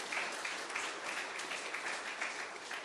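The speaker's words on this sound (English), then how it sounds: "I think that's worth a round of applause." A small gathering at a homeless shelter in Lethbridge breaks into brief applause after an announcement, soft, scattered clapping heard at a distance.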